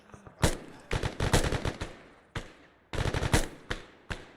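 Automatic and single gunshots in the military shooter ARMA 3, firing in loud close bursts with short pauses between volleys, plus a few isolated shots, and a faint voice underneath.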